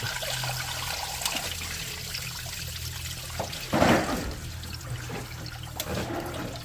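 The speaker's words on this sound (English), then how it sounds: "more antifreeze is going to leak all over the place" Antifreeze coolant running out of the thermostat housing of a 1998 Honda CR-V, a steady trickling and splashing of liquid with a brief louder gush midway, heard close with no talk.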